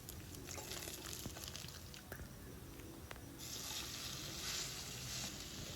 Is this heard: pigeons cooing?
no